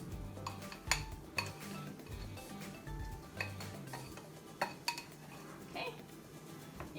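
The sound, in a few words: mashed beans added to beef in a pan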